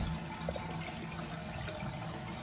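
Mountain hot spring water pours steadily into a private soaking tub at an Idaho hot springs resort, a constant close-up rushing and splashing with no voices.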